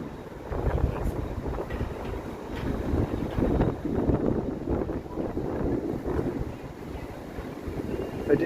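Strong wind buffets a phone microphone fitted with small wind muffs on a city street, a continuous low rumbling roar with gusty surges throughout.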